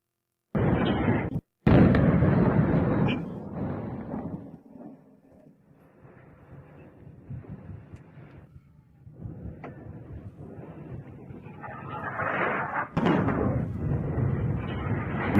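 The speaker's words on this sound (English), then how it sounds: "Now you can see bomb after bomb striking, causing massive damage here." Bombs striking one after another in war footage, a series of loud booming blasts with rumbling aftermath, a sharp burst early, quieter rumble in the middle and heavier explosions returning near the end.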